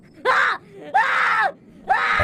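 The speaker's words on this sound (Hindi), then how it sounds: "उसके गले से चीख निकल गई" A woman's screams in a Hindi horror story come as three loud, drawn-out wails, each cut off by a short pause, close and dramatic with no talk over them.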